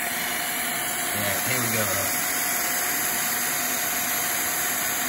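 A CNC milling machine runs a 3/8-inch solid carbide end mill at about 1,000 RPM through 440C stainless steel, giving a steady, even mechanical hum throughout, with someone speaking briefly over it.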